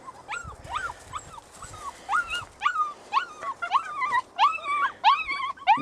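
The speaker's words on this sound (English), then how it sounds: "That crying here, that's the little male dog trying to find his way over." A young lion hound puppy whimpers and cries in a rapid series of high, rising yelps, close and fairly loud, growing more insistent toward the end, set in rocky outdoor terrain.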